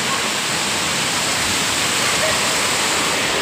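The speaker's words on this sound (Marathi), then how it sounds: "इकडे आपण बघितलं तर पाणी बघा वरतून पाणी कसं येतं आहे" A waterfall pours down at a hill fort during monsoon rain, a steady, dense rushing roar close by with no variation and no talking.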